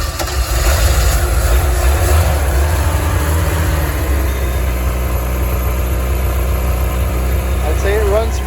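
Engine of a 1985 Dixie Bandit running steadily nearby in neutral, a continuous uneven rumble with a rough, vibrating texture; a voice briefly talks over it.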